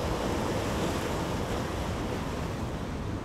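Sea waves crash steadily onto the rocks at Eyemouth in a dense, continuous roar of surf with wind noise, loud and close throughout, with no voices.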